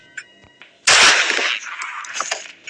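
A shotgun blast in the Granny 2 video game, one sharp loud boom that decays into a noisy ringing tail, preceded by a few faint clicks, with no voices over it.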